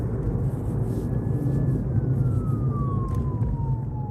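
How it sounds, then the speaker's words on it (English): An ambulance siren passes on a road, its tone heard as a single drawn-out wail that slowly falls in pitch, under heavy engine and road rumble. "Oh, there's the ambulance right there."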